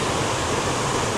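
Cumberland Falls in Kentucky pours and crashes into the pool below in a loud, unbroken roar of heavy water, close and steady with no voices.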